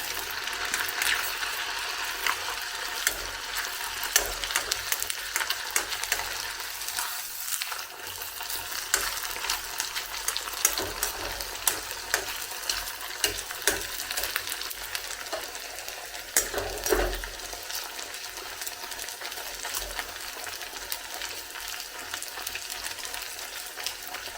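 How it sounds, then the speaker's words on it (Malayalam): Kannur-style nei pathal fries in hot oil while oil is spooned over it, a continuous busy crackle and sizzle punctuated by scraping, stirring clatter from the spoon against the pan, with no talking. "ഇട്ട് കൊടുത്തിട്ട് നമ്മൾ തിരിച്ചിടുമ്പോൾ എണ്ണ ഇങ്ങനെ കോരി ഒഴിച്ചുകൊണ്ടിരിക്കണം"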